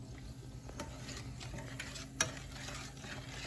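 Pancake batter being stirred and mixed in a bowl, a faint, continuous soft scraping with one sharp tap partway through, no voices.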